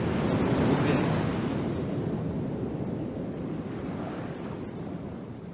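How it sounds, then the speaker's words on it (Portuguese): Steady outdoor wind blows as a continuous broad rush buffeting the microphone, loud and unbroken throughout with no voices. "barulho do vento. Ouve aí."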